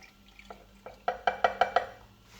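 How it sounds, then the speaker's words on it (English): Milk, 100 ml of it, is poured into a Nespresso Barista recipe maker, giving a short run of soft liquid splashes and clinks that builds into several quick, evenly spaced plops before fading. "So you just put 100 ml of milk in."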